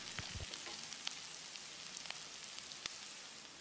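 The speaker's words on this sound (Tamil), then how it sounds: "இந்த வெங்காயத்தை பொன்னிறமாக வதக்கணும்" Small shallots sautéing in a hot pan for Pallipalayam chicken, with a soft, steady sizzle and crackle and a few sharp pops and stirring taps, close and alone with no talk.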